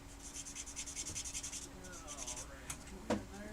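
Sanding on a scale model F-15 at a hobby bench, a steady rhythmic rubbing scrape in short repeated strokes, fairly close, followed by a few knocks and handling sounds.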